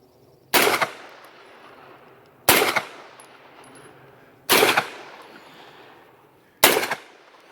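A 9mm CMMG RDB upper in an Aero EPC AR-9, loaded with Norma 124 ammunition and a Glock OEM magazine, fires four loud, sharp single shots spaced about two seconds apart, each leaving a short echoing tail outdoors.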